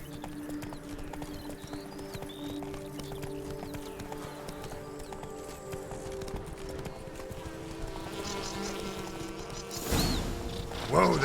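Roach, a horse in The Witcher 3, trots with a steady, fairly close clip-clop of hooves over ambient game sound, ending in a louder rustle and a brief whinny-like burst.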